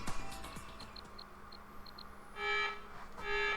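A security alarm in the video game Digimon Story Cyber Sleuth: Hacker's Memory sounds as repeated bright electronic blares, two loud bursts rising over a quiet game background with faint beeps.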